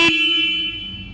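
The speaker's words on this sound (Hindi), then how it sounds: "काफ़ी लाउड है सिंगल हॉर्न भी।" A single loud horn blast from a Royal Enfield Hunter motorcycle, a steady bright tone that starts at once and holds for about a second, close to the listener.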